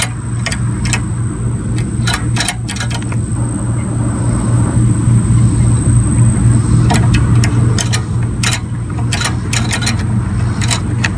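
A Briggs & Stratton 4.5 HP Quantum XTE mower engine runs at wide-open throttle with its choke not closing, a loud, steady close-up drone with sharp intermittent clicks and scrapes over the top.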